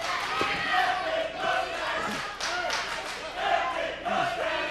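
A wrestling crowd at a live match between Caleb Konley and Jake Manning chants in rhythmic unison, a loud and steady roar of many voices rising and falling across the arena.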